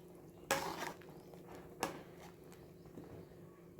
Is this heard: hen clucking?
no